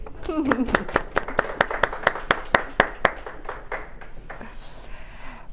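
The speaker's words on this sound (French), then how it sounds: "On l'applaudit." An audience claps for a prize winner at a lottery draw event, a run of sharp distinct hand claps at a fairly steady rhythm that thins out toward the end, with a voice speaking at the start.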